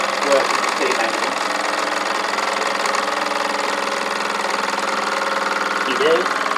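Steady mechanical chugging of a model steam engine running at an even pace, with a faint whirring hum and brief voices underneath.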